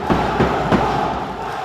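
A basketball crowd in a Lebanese championship game between Champville and Homenetmen roars during a timeout, a loud, steady wash of cheering and shouting with a few thumping peaks.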